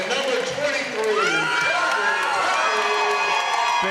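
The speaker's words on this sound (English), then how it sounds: "Big man getting a nice round of applause" A crowd at a high school basketball regional quarterfinal cheers and shouts for a player. The sound is loud and busy, with whoops and excited voices layered over a noisy arena wash.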